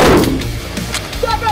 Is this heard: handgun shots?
yes